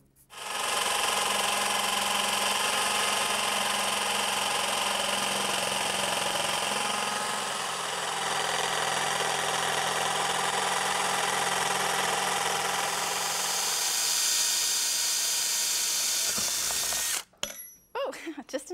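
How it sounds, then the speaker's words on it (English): A jigsaw cuts wood for a custom bathtub caddy, a loud continuous buzzing drone held steady for about sixteen seconds close to the mic before stopping abruptly. A few clattering knocks follow. "So now I can trace it and then jigsaw it, and I should get a fairly clean cut that shows on the other side."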